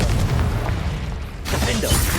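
Confringo explosion spell cast in the video game Hogwarts Legacy, a loud booming blast with a broad burst that swells again near the end amid ongoing combat effects.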